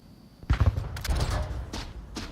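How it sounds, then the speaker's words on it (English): Rapid burst of SKS rifle shots in the VR shooter Onward during a competitive league match: a loud cluster of sharp reports, followed by further scattered gunfire and clatter in the same close, busy firefight. "SKS shots ring out"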